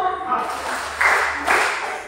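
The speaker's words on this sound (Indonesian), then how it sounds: "Tepuk tangan buat kalian semua" A crowd at an Indonesian Independence Day stand-up comedy show claps in unison as part of a call-and-response chant, with two sharp group claps landing close together amid voices.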